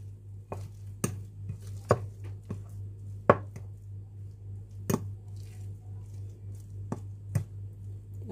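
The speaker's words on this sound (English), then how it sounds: "And then mix this in." A spoon stirs egg batter with grated cheese in a mug for a microwave egg muffin, giving irregular close clinks and taps against the mug over soft, wet stirring, with no talking.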